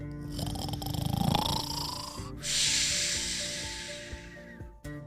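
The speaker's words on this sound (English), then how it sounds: "Have you ever heard a dinosaur snore?" Loud, rasping snoring of a cartoon dinosaur with a deep rumble, followed by a long breathy hiss like an exhale, close up and filling the clip.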